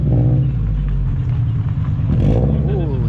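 A Toyota GT86 sports car rolls out of an enthusiast meetup, its engine giving a close, low, throbbing rumble with a slight rise in pitch, while voices talk nearby.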